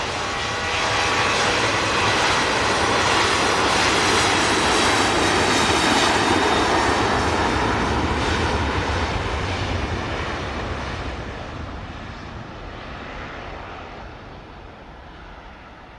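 A Ryanair jet departing Manchester Airport for Bologna roars loudly in a broad, sustained engine rumble that swells and then slowly fades as it climbs away.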